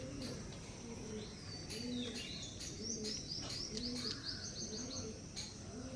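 Pigeons of a Punjabi breed cooing steadily, with low, rounded coos repeating in a slow rhythm. Higher chirps and rustling from other birds sit on top of the cooing, close by, and no one speaks.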